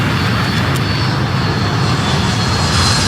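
A loud, steady roar of an airplane engine fills a scene in the video game The Forest, a constant broadband rumble with no pauses.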